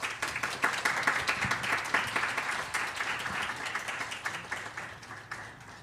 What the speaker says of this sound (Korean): 여러분 3배로 큰 박수로 큰 축복으로 맞이해 주시면 감사하겠습니다